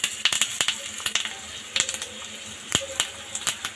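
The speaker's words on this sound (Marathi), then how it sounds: "आणि ते वरणाला फोडणी देऊन घ्यायची" A tempering of curry leaves and chili powder crackles as it is poured from a small tempering pan over cooked dal, giving a hissing sizzle broken by sharp, irregular pops close by.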